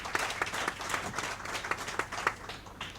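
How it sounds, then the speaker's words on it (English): Audience applause at an innovation event, a steady patter of many hands clapping with sharp individual claps standing out, moderately loud and sustained throughout. "I think that deserves a round of applause."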